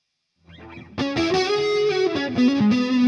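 Electric guitar run through the modulation section of a budget multi-effects pedal, a soft picked figure followed by a loud, sustained distorted chord with a wavering, flanger-like sweep, close and alone.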